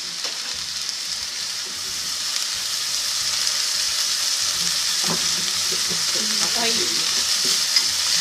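Yakisoba noodles stir-fried in a purple, reduced broth give off a strong, steady sizzle close by, with soft scraping of the stirring; a voice speaks a word briefly over it.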